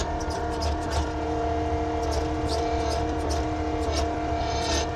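A bulldozer engine at a construction site runs loud and steady, a sustained droning hum with stable tones and faint clanks on top, no voices over it.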